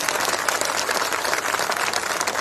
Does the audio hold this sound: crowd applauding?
yes